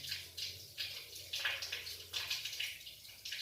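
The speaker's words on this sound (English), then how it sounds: "so that the water flows from the least to the most contaminated area of our" Water runs from a tap while hands are washed beneath it, a close, splashy hiss that rises and falls in uneven pulses as the hands move through the stream.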